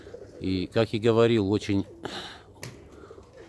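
Pigeons cooing nearby, a series of low, throaty, warbling coos in close bursts, while someone talks in Russian over and between the calls.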